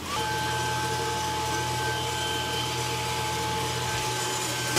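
Creality Falcon 2 Pro 40W laser engraving a logo into a cork coaster, with an exhaust setup: a continuous loud fan-like hiss and drone with steady tonal whines, close and unbroken, a low hum dropping out near the end.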